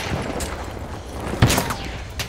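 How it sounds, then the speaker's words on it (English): Rapid gunfire crackles in the Battlefield 1 video game, a dense burst of shots with one sharper close crack midway and more shooting further off. "Oh, I'm getting shot here."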